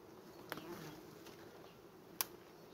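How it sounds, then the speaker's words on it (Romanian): Honeybees buzz around a hive in a faint, steady hum with a couple of sharp clicks, and a voice is heard softly in the background. "Multă albinuță."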